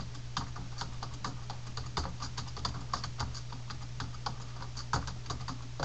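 Someone types a short sentence into Microsoft Word on a computer keyboard, producing a steady patter of distinct clicking keystrokes, close and quiet over a faint low hum, with no voices.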